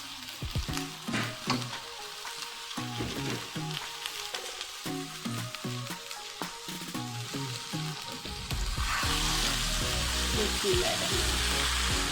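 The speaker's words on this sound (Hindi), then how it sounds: "अब इसमें हम डालेंगे, ये 2 किलो मेरे पास फूल गोभी है" About two kilograms of cauliflower florets go into hot spiced oil and fry with a loud, steady sizzle. Stirring crackles come first, then the sizzle turns to a dense, continuous roar.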